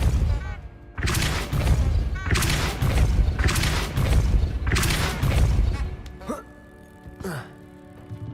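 The Depulso spell is cast in a Harry Potter video game as a run of loud, booming blasts with rushing bursts, followed by quieter whooshing effects and a faint tonal hum.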